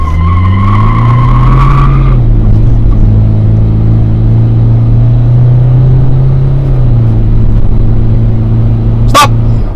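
A 2012 Toyota Innova diesel automatic accelerates hard from a standstill to 100 km/h, its engine drone rising steadily and loudly with audible gear shifts, and a brief sharp noise near the end.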